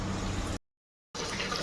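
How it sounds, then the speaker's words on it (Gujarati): Water runs into a container in a dense, rushing stream, cut off by a brief gap of silence before the flow resumes just as strongly. "બારે પાણી ભરાય છે"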